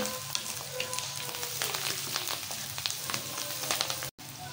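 Bell pepper sautéing in a clay pot: a steady, close sizzle and frying crackle running throughout with light stirring scrapes and no talking.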